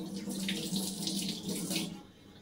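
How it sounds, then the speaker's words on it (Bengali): Tap water runs steadily into a sink as a spoon is rinsed under the stream, a close, continuous splashing hiss that eases off near the end, with no talking. "সরি, তার আগে আমি স্পুনটা একটু ধুয়ে নিচ্ছি।"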